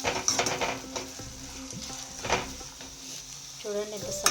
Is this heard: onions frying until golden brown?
yes